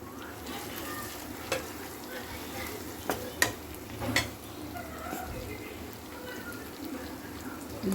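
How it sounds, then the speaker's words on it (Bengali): Tomato and green chili paste sizzles in a hot pan for a Bengali rohu fish curry, a steady frying hiss with a few sharp stirring scrapes and clinks near the middle. "দিয়ে দিচ্ছি টমেটোর আর কাঁচা লঙ্কার পেস্ট"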